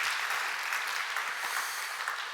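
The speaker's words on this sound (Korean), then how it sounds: "박수라도 한번 쳐야 되지 않겠습니까?" Applause from a congregation at a church worship service, a dense, steady patter of many hands that fills the whole moment and tapers slightly at the end.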